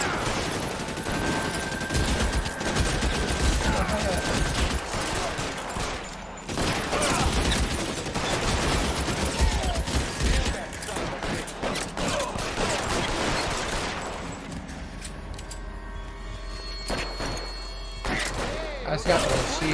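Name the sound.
gunfire from shooting enemies in the video game L.A. Noire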